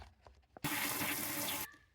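A kitchen tap suddenly gushes into a sink for about a second while celery is washed, a loud, close, steady rush of water that cuts off abruptly, with faint clatter before it.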